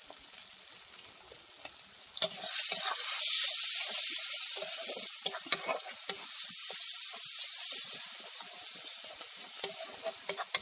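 Spice masala with chili powder and turmeric being fried and stirred in a pan, a quiet start giving way to a bright, steady sizzle with scattered scraping clicks from stirring.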